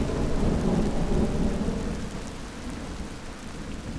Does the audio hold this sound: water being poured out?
no